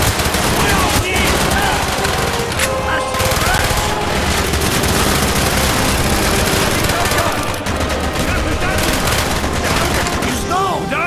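Dense, relentless machine gun fire fills a Call of Duty: Black Ops battle in the Project Nova mission, rapid bursts overlapping with booms while voices shout amid the shooting.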